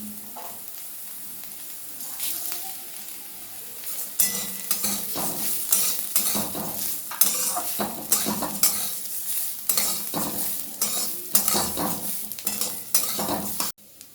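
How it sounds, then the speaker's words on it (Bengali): Gobindobhog rice fries in a pan for a pulao, with a continuous sizzle and repeated scraping stir strokes from a spoon that grow louder and more frequent partway through. "গোবিন্দভোগ চালটা দিয়ে এটা আরও 2 মিনিট মতন একটু ভাজতে হবে"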